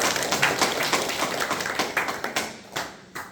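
A church congregation claps during a Sunday worship service, a lively patter of many hands that swells and loosens into scattered, distinct claps toward the end.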